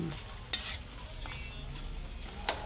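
Utensil stirring a dish cooking in coconut milk with libas leaves, a soft scraping swirl over a faint simmer, with two brief sharp clinks against the pot.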